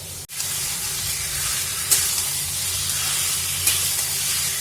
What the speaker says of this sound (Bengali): এখন মাংসটাকে 6 থেকে 7 মিনিট ভালো মতন কষিয়ে নেব